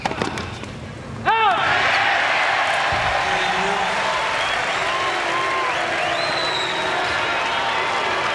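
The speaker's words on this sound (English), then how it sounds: "Some booing going on now in support of Agassi." Crowd at the 1998 Key Biscayne tennis match between Rios and Agassi, a loud sustained roar of booing and jeering from the stands that follows a sharp smack and continues steadily throughout.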